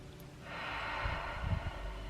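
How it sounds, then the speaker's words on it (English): Deep breath drawn in through the nose, a soft, close, airy inhalation that builds gradually and sustains for over a second. "breathe in through the nose"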